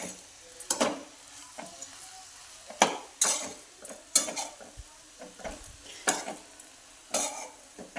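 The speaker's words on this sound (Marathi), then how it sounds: "हे सगळं मिक्स झालं पाहिजे ना, म्हणून असं छान हलवायचं।" A spoon stirs hadga (hummingbird tree) flower vegetable in a frying pan, giving repeated scraping and clinking strokes over a soft background sizzle, fairly close and moderately loud, with no talking.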